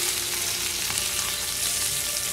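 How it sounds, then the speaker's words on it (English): Onion sizzles in a hot skillet of sunflower oil, a dense, continuous crackling fry at close range and fairly loud, with no talking. "my skillet is hot. And what we'll do is we'll add our onion."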